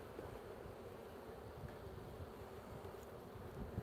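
Faint, steady drone of excited honeybees swarming around an opened hive during an afternoon hive check, a low continuous hum with no voices.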